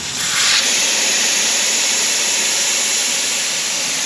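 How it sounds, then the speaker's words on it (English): Steady, loud air hissing out of an off-road tire with its valve core pulled, a broad continuous rush that holds level for the whole stretch with no voices over it. "pulling the valve core and letting all the air out of the tire"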